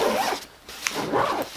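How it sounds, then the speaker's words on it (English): The zipper of a HotLogic casserole carrier bag is drawn shut in two quick rasping pulls, close and clear, with a short pause between strokes. "Oh, let me grab the right zipper."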